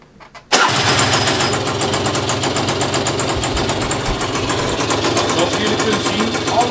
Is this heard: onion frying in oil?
no